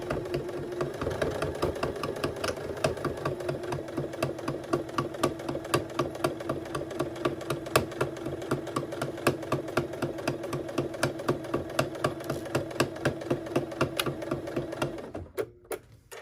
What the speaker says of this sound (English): we're going to use a 1/4 inch seam allowance to stitch this all the way around